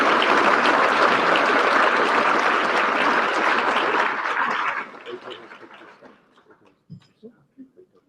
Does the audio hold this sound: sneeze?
no